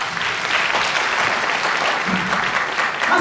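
An audience at a Christmas stage show in a school in Vidin, Bulgaria, applauds for a musical group. The clapping is dense and sustained, a full-room roar that stays loud throughout.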